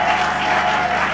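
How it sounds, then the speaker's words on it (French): A congregation applauds during a church cell-group sermon, a dense, steady wash of many hands clapping for the whole moment with no talk over it. "Applaudissons pour le Seigneur et au prochain niveau."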